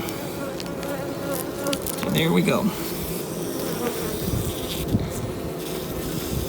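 Honey bees buzz steadily and close by while a queen is released, their drone swelling briefly midway, while a person speaks a few words over it.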